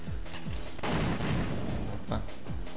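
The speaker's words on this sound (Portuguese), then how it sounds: "E essa caixa aqui dá pra gente estourar." Gunfire in the N64 game WinBack: Covert Operations, several shotgun blasts with a big boom near the middle as a crate bursts apart, all loud and close over steady game background noise.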